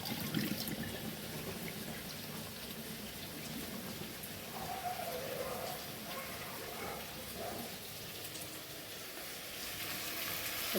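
Running water splashes steadily while something is rinsed briefly in a home kitchen before cooking rice, a continuous hiss of flow with a few louder splashes near the start.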